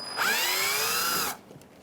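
Power drill driving radiator cover screws at the top front of a 2015-2019 Hyundai Sonata during grille removal: one loud, close whirring spin lasting about a second, then stopping.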